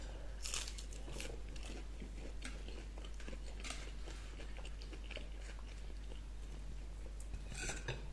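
A person chews food close up, soft repeated crunching and biting sounds in an irregular rhythm over a low steady hum, faint and without talking.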